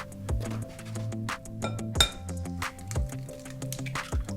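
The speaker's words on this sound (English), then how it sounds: "We're going to crack the eggs into a bowl." Eggs are cracked against the rim of a bowl for a plum clafoutis batter, giving a run of sharp close taps and clinks with ringing glassy tones between them.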